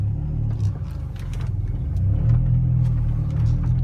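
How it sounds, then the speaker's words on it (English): A supercharged 1.6-liter four-cylinder in a 2002 MINI Cooper S John Cooper Works gives a steady, low, menacing growl that swells slightly in loudness partway through, with no talking. "Nice little menacing growl from that four-cylinder"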